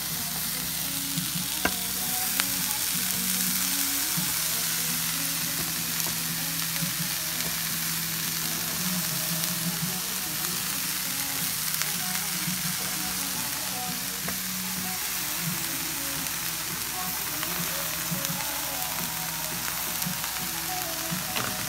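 Mixed vegetables and zucchini slices stir-fry in a pan for vegetable fried rice, giving a continuous moderate sizzle with occasional clicks and scrapes of stirring throughout, and no voices.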